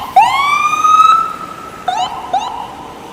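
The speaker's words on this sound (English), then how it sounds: "let's wait for the ambulance to go" An ambulance siren wails close by on a rainy New York City street, one long rising-and-falling sweep followed by two shorter yelps, loud and alone.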